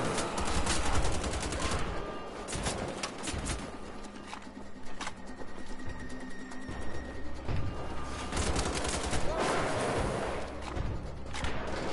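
Dense gunfire in the video game Wolfenstein: The Old Blood, loud rapid bursts and shots overlapping in near-continuous fire with heavy impacts throughout, no voices over it.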